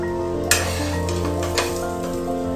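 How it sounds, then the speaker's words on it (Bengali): Two cheese parottas frying together in a little oil give a soft steady sizzle, with a pair of sharp spatula or pan taps and a humming drone beneath. "দুটো আমি একসাথে এখানে ভেজে নেব"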